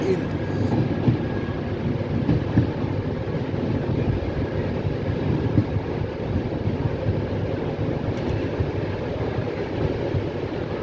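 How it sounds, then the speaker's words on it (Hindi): A Double Decker Express train pulls into Alwar station with a steady, loud rumble and rolling wheel noise that stays constant throughout, heard from inside the carriage with a voice talking over it. "तो हमारी ट्रेन पहुंच चुकी है अलवर में"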